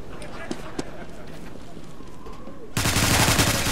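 Gunfire from a gun in the Roblox game Evade: faint scattered shots and footsteps give way to a sudden loud, dense burst of rapid fire that runs to the end.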